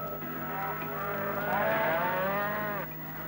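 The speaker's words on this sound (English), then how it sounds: "A shaggy, ill-tempered relative of the buffalo is the yak." A domesticated yak in the high Karakoram mountains of Pakistan gives a drawn-out, low, moo-like grunt that swells in the middle and lasts about three seconds, close and clear over a light background hum.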